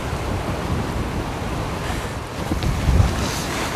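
Strong wind roars at sea during a winter sea fishing outing for blackfish in cold water, a constant loud buffeting rush with waves underneath and a few thumps near the end.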